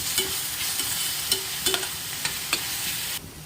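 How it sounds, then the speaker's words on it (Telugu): Ginger garlic paste being stirred as it fries in a pan for a drumstick gravy curry, with steady sizzling and several sharp spoon scrapes and clinks spaced irregularly, close and fairly loud, no voices. "అల్లం వెల్లుల్లి పేస్ట్ 2 టేబుల్ స్పూన్ వేసుకోవాలి. బాగా కలుపుకోవాలి."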